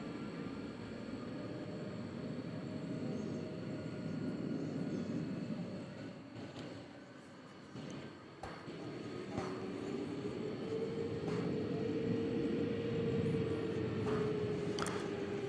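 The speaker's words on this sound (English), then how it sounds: "Well, we do have a plane that's getting ready to take off here." A Frontier Airlines plane in green livery prepares to take off at night from Dallas Fort Worth airport, heard as a steady, fairly distant jet engine drone that swells and rises in pitch, with faint rattles and knocks from nearby.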